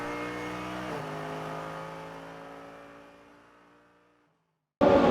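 A GT3 race car nearing the end of a lap at Abu Dhabi holds a loud, steady engine drone that shifts down a gear and gradually fades, then cuts to silence before an abrupt burst of new noise.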